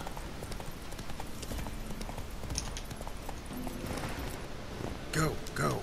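Roach, a horse in The Witcher 3, gallops with rapid, rhythmic clip-clop hoofbeats that run steadily through the whole stretch. Game ambience sits underneath, and a short voiced call sounds near the end.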